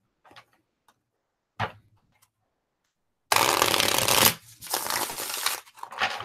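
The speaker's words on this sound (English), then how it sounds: "Feel like it shuffles well." A Tarot del Fuego deck is shuffled by hand. A few soft taps come first, then a dense, loud riffling burst of about a second, followed by a few shorter rustling shuffles.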